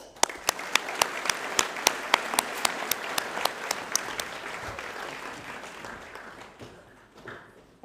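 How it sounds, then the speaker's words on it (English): A final round of applause at a high school junior prize giving, with a few loud, sharp claps near the front pulsing steadily over a broader crowd patter that fades toward the end. "Great, final round of applause."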